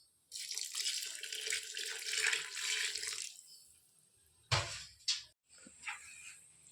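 A steady stream of water pours for a few seconds into a pot of mutton dum biryani, followed by a couple of splashes and clinks nearby.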